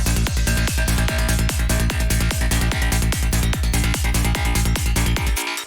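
A kick drum thumps steadily on every beat within a loud, dense full mix whose low end has been cut by EQ, the pattern running evenly before stopping abruptly at the end.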